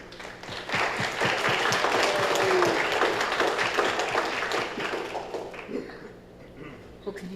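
Applause from attendees at an international parliamentary press conference, a crowd of scattered claps rising loud and steady before thinning and fading toward the end, with some talk mixed in.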